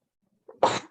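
A single short sneeze, a quick intake followed by a sharp burst, fairly quiet and alone against silence.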